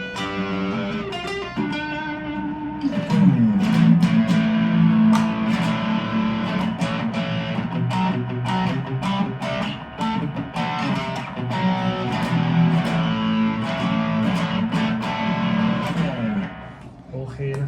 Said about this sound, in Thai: เสียงคลีนแล้วก็เสียงแตกนะครับ